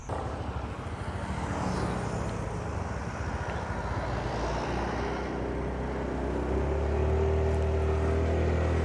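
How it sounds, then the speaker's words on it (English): A motorbike is ridden through Chiang Mai, Thailand, as a steady close engine drone mixed with wind rush and passing traffic fills the whole stretch without speech. "let's get on the bike and let's get rolling"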